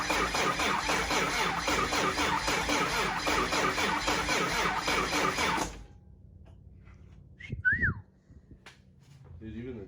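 A 6.7L Cummins diesel engine cranks for several seconds with a rapid, loud, rhythmic churning that then cuts off, followed by quieter background noise and a brief rising whistle.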